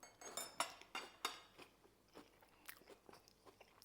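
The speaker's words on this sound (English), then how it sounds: "Let me just try a bit of that fish on its own." Crisp, close bites into pan-fried crispy fish, followed by crunchy chewing with a few soft clinks of cutlery against a plate.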